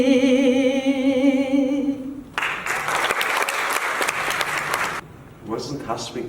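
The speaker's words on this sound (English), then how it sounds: "give another round of applause" A sustained sung tone from an Armenian performance gives way to a burst of close audience applause lasting a few seconds, after which a voice begins talking.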